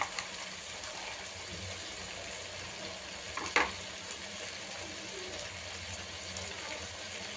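Veg manchurian gently simmering in a pan on the stove, a soft continuous bubbling sizzle with one brief sharper clatter partway through, no talking.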